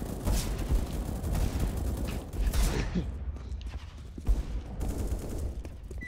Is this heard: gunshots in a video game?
yes